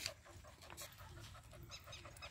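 An American Bully dog pants in quick, steady breaths at a puppy seller's place, faint and fairly close, with a low background hum and no talking.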